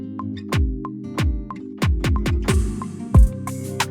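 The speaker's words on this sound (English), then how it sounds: "I wanted this drum fill or chopped section just before the hook to kind of give it a lift," Chopped, stuttering drum fill in a bouncy R&B beat leading into the hook, with punchy booming kicks, snappy hits and a rising noisy sweep over held chords, all instrumental.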